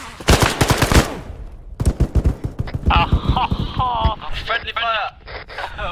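Rapid bursts of gunfire in the Arma 3 military shooter, in a STALKER-themed mission: a dense volley of sharp shots at the start, then scattered cracks mixed with radio-like chatter and voices talking over the action.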